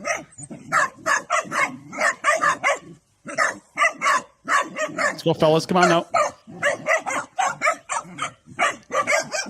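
Several dogs bark and yip excitedly at a snake in a backyard, with a man urging them on; the barks come in rapid bursts, tangled together with the talk.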